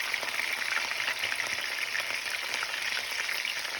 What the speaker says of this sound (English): I'll get them all flipped over and see how they break away from the pan easily.